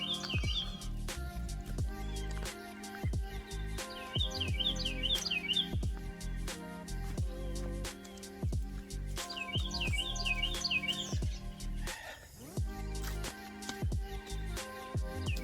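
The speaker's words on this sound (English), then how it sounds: "Do you hear the birds?" Many birds chirp and twitter on a spring morning, steady overlapping songs and calls running throughout with repeated trilled phrases, over a busy background of clicks and low rumbling.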